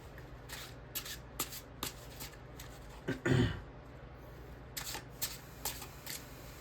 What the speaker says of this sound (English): when I started shuffling